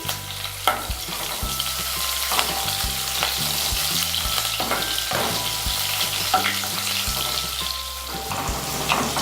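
Onions and ginger-garlic paste fry in a pan for a ridge gourd and moong dal curry, crackling and sizzling continuously under repeated loud stirring scrapes at a steady pace, close and with no voices.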